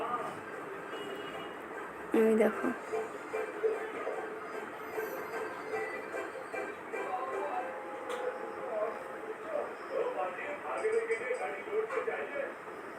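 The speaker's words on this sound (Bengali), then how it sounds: "এই ট্রেনের আওয়াজ শুনতে কিন্তু আমার ভীষণ ভালো লাগে" A train passes in the distance, its steady rumble and faint wheel squeal running low beneath a person speaking close by outdoors.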